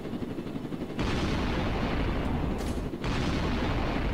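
Bomb explosions in the Roblox game Jailbreak: a sustained, loud rumbling blast noise that swells abruptly after a quiet second, briefly dips near the three-second mark, then roars on steadily to the end, with no voices.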